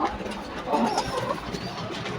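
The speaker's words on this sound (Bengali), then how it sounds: "দেখুন কিভাবে খাচ্ছে কবুতরগুলো" Four pigeons crowd a small feeding dish, giving soft low coos amid light pecking and shuffling, fairly close and quiet, with faint background noise throughout.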